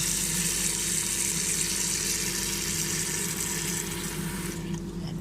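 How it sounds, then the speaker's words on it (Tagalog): Water runs in a steady rushing stream into a cooking pot, broad and hissy, and it stops abruptly near the end with no talking. "Lalagyan natin ng tubig."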